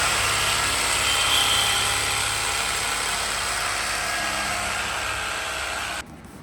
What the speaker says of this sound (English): Now we got to cut the cockpit.